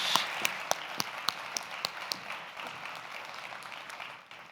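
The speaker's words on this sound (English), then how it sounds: "Please give a huge round of applause to Sol Rashidi." A thinning round of applause at the close of a conference talk on AI for executives, with a few distinct, sharp claps standing out early before the sound fades into low room murmur.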